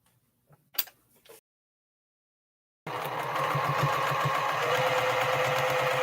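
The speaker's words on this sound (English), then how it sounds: "Lock in my seam at the beginning and lock it in on the end with just a little minor reverse stitch" A sewing machine stitches a quilting seam of pieced fabric crumbs with a short reverse stitch, a few faint clicks and a pause before it runs in a steady, even, rapid hum to the end.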